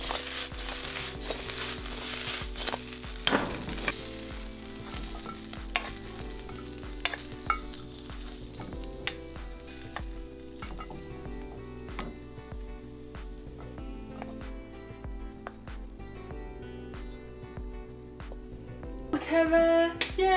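Sweet and sour pork tossed in sauce in a hot wok, with a steady sizzle and repeated scraping, clattering stir strokes of a utensil against metal, close up, with a voice occasionally heard over the cooking.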